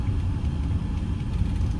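A 1969 Rover P5B coupe's engine idles steadily after starting, a continuous low rumble close by with no talk over it.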